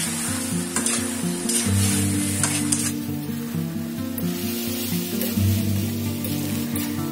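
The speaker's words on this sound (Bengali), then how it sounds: "মশলা ভালো করে কষানো হয়ে গেলে এরপরে আমি মাংসগুলো দিয়ে দিব।" Meat added to onion and whole spices frying on a gas stove, a loud continuous sizzle that flares in bursts with stirring scrapes, close and without talk.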